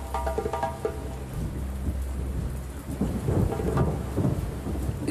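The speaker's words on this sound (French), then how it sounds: "Première goutte de pluie, dit Poilroux." Steady rain with rolling thunder during a storm, a continuous loud wash with deeper rumbles swelling in the second half, no voices.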